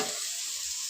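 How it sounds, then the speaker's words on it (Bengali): Chicken pieces sautéing in hot oil in a pan for a Bengali chicken kosha, giving a steady close hiss of sizzling throughout a short moment, with a faint stir at the start. "আমি চিকেনটা দিচ্ছি, দিয়ে এটা অনেকক্ষণ ধরে কষাবো"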